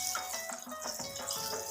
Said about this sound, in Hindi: अभी हम इसमें डालेंगे पानी